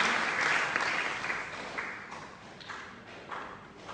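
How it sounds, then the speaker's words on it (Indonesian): Audience at a church sermon applauding steadily, a dense wash of clapping that swells at the start and slowly thins out over a few seconds, heard from within the room without voices. "Tepuk tangan buat dia."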